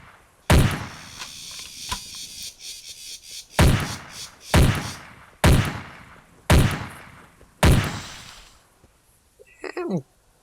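Gunfire in the dinosaur-hunting video game Carnivores: five or six loud, sharp shots spaced a second or two apart, each with a booming decaying tail, then a brief squealing creature cry near the end.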